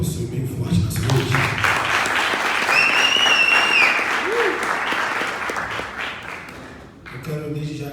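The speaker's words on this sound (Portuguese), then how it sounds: "Você pode aplaudir o Senhor bem forte nessa noite?" A church congregation breaks into loud, sustained applause, with cheering and whoops rising from the crowd before the clapping thins out near the end.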